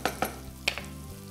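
Cauliflower florets tip into a pan of sautéed onions for a cauliflower soup, bringing a few sharp clattering hits over a steady close sizzle of frying.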